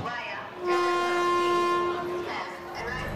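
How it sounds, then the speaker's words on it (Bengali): A train's horn sounds at a station as a story sound effect, one loud, steady held blast of about a second and a half over a rumbling rail background that fades afterwards. "সিগন্যালটা সবুজ হতেই আগের রোহিত এগিয়ে যায় ট্রেনে ওঠার জন্য।"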